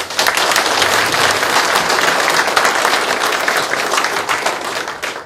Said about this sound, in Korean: 힘내시라는 뜨거운 박수를 한번 부탁드립니다.